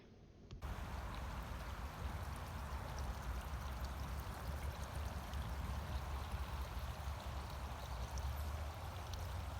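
Water runs steadily down a sand-filled stream table channel in a classroom erosion demonstration, giving a continuous soft rushing flow that starts abruptly after a brief silence and then holds an even level.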